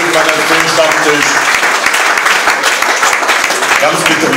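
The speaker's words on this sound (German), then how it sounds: "vielleicht an dieser Stelle auch mal einen aufmunternden Applaus" A crowd at a football club Stammtisch talk event gives encouraging applause. The dense, loud clapping is continuous and sustained, with voices talking over it throughout.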